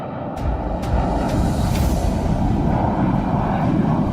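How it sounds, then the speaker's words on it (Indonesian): An airplane carrying Hajj pilgrims takes off and climbs, a loud, steady engine roar with broadband rumble sustained throughout, no voices. "Lalu pesawat mengudara tinggi, dan tangan-tangan negeri pun ikut terbang"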